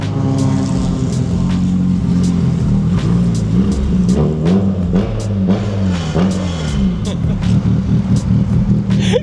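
A car engine with a broken transfer gear idles and revs in a garage but cannot move. It gives a loud, continuous low rumble with surging revs, and voices are heard over it.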